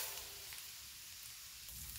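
Rice poured into melted butter in a pan sizzles steadily and evenly for the whole stretch, a close, dense crackle with a few soft stirring scrapes and no talking.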